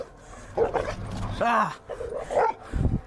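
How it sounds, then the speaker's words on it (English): Aggressive unleashed dogs barking and lunging at a person, a few sharp, loud barks and yips in quick bursts, mixed with a startled human shout. "I can tell by the sound of their bark that they are ready to attack."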